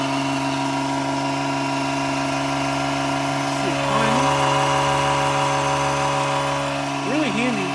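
An onboard air compressor on a Cummins-powered 3500 truck runs steadily while filling a tire, a constant mechanical hum under a voice.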